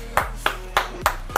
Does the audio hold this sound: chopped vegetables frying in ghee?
no